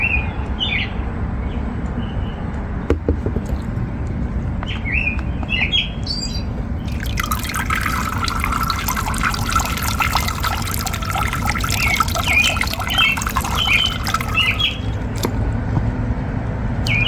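Water poured from a cup over a moss pole in a Thai Constellation monstera pot, trickling and splashing steadily for several seconds, with birds chirping in the background.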